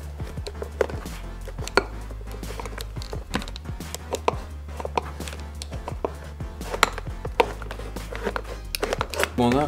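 A plastic quadcopter canopy shell is cut in half, giving irregular sharp cracks and snapping clicks over a steady low hum, with scraping crinkles between the louder snaps.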